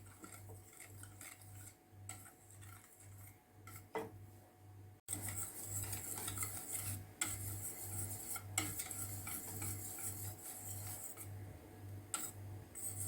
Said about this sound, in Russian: Непрерывно помешиваю,